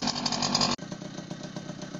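A 1970s Zundapp KS50 moped engine runs with a buzzing two-stroke rasp, loud at first, then cutting abruptly and continuing at a slightly lower, steady putter.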